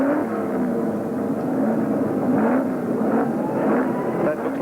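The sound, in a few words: historic touring race cars roaring away from the start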